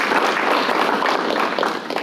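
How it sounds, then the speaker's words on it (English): An audience at a partnership meeting applauding, a dense, steady wash of many hands clapping that holds throughout and tapers slightly at the end. "I think you guys should give her another round of applause."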